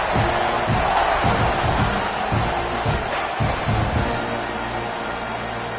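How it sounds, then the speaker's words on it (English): A football stadium crowd roars steadily in a dense, loud wash of cheering at a Tennessee at Texas A&M college game, with no single voice standing out. "this crowd is feeling themselves after that last drive"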